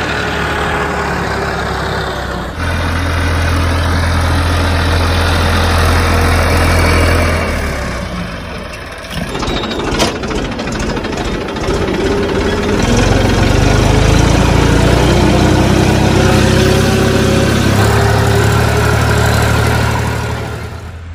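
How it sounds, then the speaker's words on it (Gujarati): A tractor engine runs loudly and continuously in a peanut field during groundnut harvesting in North Gujarat, with a deep rumble that shifts pitch as it labours and revs, close by and with no talk. "ટ્રેક્ટર તો આમ કાઢી રહ્યા થઈ છે"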